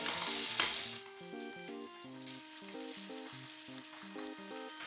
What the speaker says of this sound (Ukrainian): На сковорідку викладаю розтоплене вершкове масло. І відразу починаю обсмажувати окорочка.